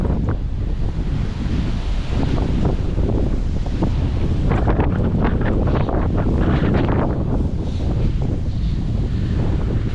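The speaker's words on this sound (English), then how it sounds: "Highly windy today. I don't know about the audio," Strong gusts buffet the microphone outdoors in Wroclaw's old city, producing a loud, continuous low rumble and roar that never lets up for the whole stretch, with no voices heard.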